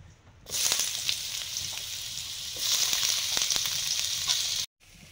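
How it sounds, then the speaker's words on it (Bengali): Dried red chillies and onion frying in hot oil, a steady bright sizzle that swells and settles with faint stirring scrapes, close and continuous, stopping abruptly near the end. "শুকনো লঙ্কা ভাজছি"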